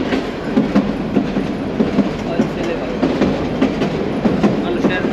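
A local train runs from Dhaka toward Narayanganj, its wheels beating a loud, steady clickety-clack over the rails with the rumble of carriages close by, and faint passenger chatter mixed into the din.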